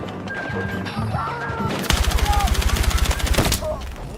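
Video game gunfire bursts out in a rapid automatic volley of loud, evenly spaced shots lasting over a second, preceded by quieter game sounds and a voice.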